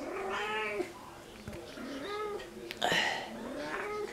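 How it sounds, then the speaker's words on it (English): Several kittens from a single litter meow repeatedly up close, high thin cries overlapping in quick bursts with short pauses between calls. "There's all the kitties."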